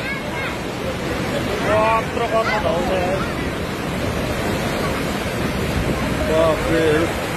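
The Kankai River in Jhapa, in flood, roars as a loud, continuous rush of churning water, with people's voices scattered faintly through the noise.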